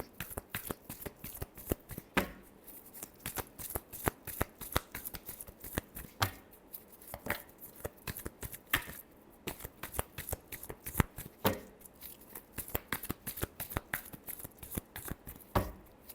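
Tarot cards are shuffled by hand in quick, repeated riffling bursts, soft and close, continuing steadily for about sixteen seconds.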